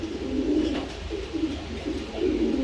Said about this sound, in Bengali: দেখার মতো এক পেয়ার, একদম কিউট এক পেয়ার কবুতর।